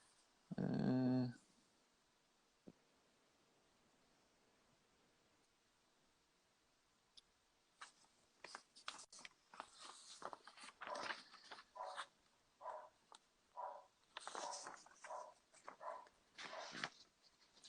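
Dog barking in the background of a home live stream, a series of faint, distant yelps and barks in irregular bursts after a quiet stretch, with a brief louder noise near the start.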